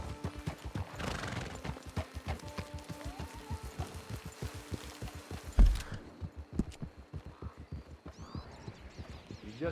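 Horse hooves clip-clopping in the video game Red Dead Online, a steady rhythmic trot with a neigh early on and a heavy thump midway, fairly close and without talk.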